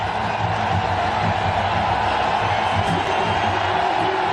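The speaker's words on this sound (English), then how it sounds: "The crowd erupt." A stadium crowd at the Asia Cup final cricket match roars after a big hit, a dense, loud, continuous wall of cheering and noise with no break across the whole stretch.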